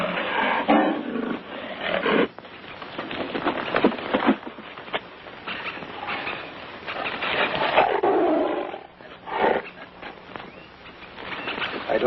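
A tiger growls and roars in a long, rough, throaty rumble that swells and fades in bursts, close and loud, set in an old jungle adventure film with no talk over it.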